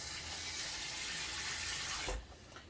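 Hot water running from a kitchen tap into a sink: a steady, close gushing rush that stops abruptly near the end, leaving faint room quiet.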